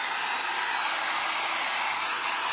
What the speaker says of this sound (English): what I'm gonna do now is get my dryer and we're gonna dry this